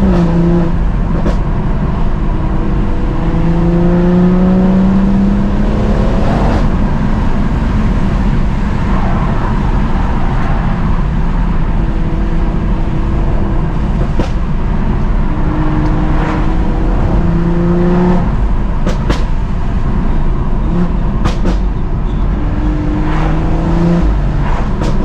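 A stage 2 tuned BMW M140i driven steadily on wet roads, its engine note rising and falling through gears under constant road and tyre noise, loud and close, with no talk.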